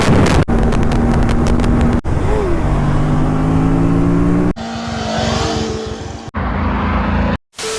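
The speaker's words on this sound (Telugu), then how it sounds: "First time ZX6R నడుపుతున్నా." A Kawasaki ZX-6R motorcycle being ridden for the first time, its engine loud and close, climbing through revs in surges cut by brief shift gaps and wind buffeting.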